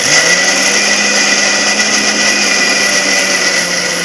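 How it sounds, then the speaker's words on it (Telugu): A mixer grinder grinds urad dal with ash gourd pieces for gummadi idli batter, giving a loud, steady, continuous whirring roar that runs unbroken from start to finish with no voices. "ఈ మినపప్పులోని ఈ బూడిద గుమ్మడికాయ ముక్కలు కూడా వేసుకొని మిక్సీ పట్టుకోవాలి."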